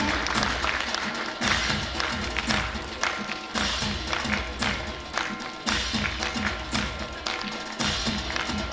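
An audience at a Brahma Kumaris dedication ceremony claps to welcome a guest onto the stage, steady dense applause with scattered sharper taps and thumps throughout.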